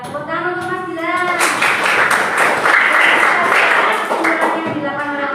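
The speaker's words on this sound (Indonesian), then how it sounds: "tepuk tangan untuk Mas Gilang" A class of students in a school setting bursts into loud, close applause for a student, dense rapid clapping that swells after a spoken line and carries on to the end, with talking beneath it.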